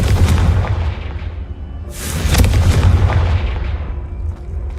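A Confringo blasting spell goes off in the Hogwarts Legacy video game: a deep, rumbling boom bursts out and decays, followed by a second heavy blast with crackling debris, with no talking.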